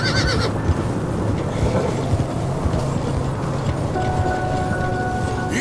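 A horse whinnies in the western video game Red Dead Redemption 2. Brief neighs and hoof clatter sit over a constant outdoor rumble, with a voice speaking briefly.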